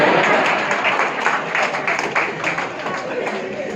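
Applause from an audience at a motivational speech, a dense continuous wash of many hands clapping that stays steady and fairly loud throughout, with faint crowd murmur underneath.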